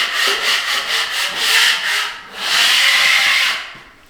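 High spots on dried drywall mud are knocked down with a scraping blade. The strokes are loud, close and gritty: a series of short rapid passes, then one long sustained scrape that fades out.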